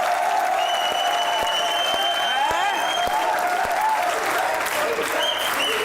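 A studio audience at a television talk show breaks into loud, sustained applause, dense clapping that fills the whole stretch without a pause, while a host keeps talking over it.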